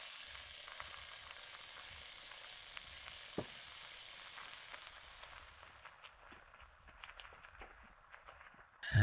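Vegetable sauté for borscht frying in a pan over a campfire, a soft continuous sizzle with light stirring scrapes and a few knocks, quiet and close with no talking.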